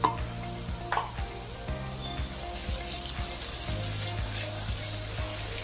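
Ginger garlic paste fries in a pan over browned onions, a steady soft sizzle with light stirring taps, and a low hum running underneath.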